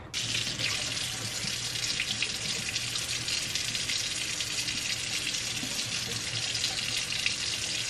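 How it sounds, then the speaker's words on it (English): Cold water runs steadily from a kitchen tap onto bread being prepared as breadcrumbs, a constant close splashing hiss with no talk. "And itong bread na to, guys, lagyan natin ng cold water."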